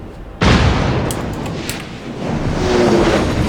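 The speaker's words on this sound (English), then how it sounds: "So now we decide to fire at the carrier." The Yamato's main battery fires at a carrier in World of Warships: one sudden, loud, deep boom after a short quiet moment, then a long rumbling tail that swells again toward the end.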